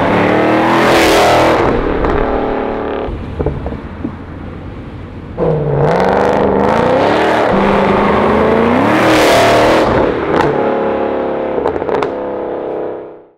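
Weistec-built Mercedes-AMG C63 with a steel wide body and about 680 wheel horsepower, its engine loud and close as it accelerates and revs through rising and falling pulls, with the roar dropping off at the very end.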